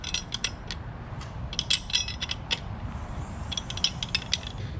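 Metal clicks and ratcheting rattle as a strut top nut is tightened with a wrench while an Allen key holds the shaft, fitting lowering springs on a 2021 Mazda3 Turbo hatchback; a close run of sharp, irregular clinks over a low steady rumble.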